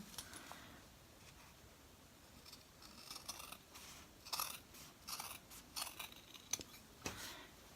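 Scissors cutting fabric and felt, faint snipping and crunching cuts in irregular clusters, quiet and close, over a low background hum.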